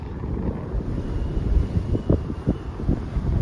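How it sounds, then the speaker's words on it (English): Strong, steady wind roars and buffets the microphone during a whiteout snow squall with gusts above 50 mph in Natick, Massachusetts, loud and continuous with sharper gusts, no voices. "now there actually is some wind now"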